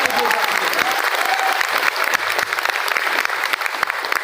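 Dense, steady crowd applause rings out at a stage event for RCM business achievers, clapping for a marketing plan presentation, close and loud with voices faintly mixed in.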